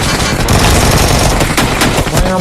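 Dense, loud automatic gunfire rattles without a break in PUBG Mobile, the shots close and overlapping with sharp impacts, and no talking on top.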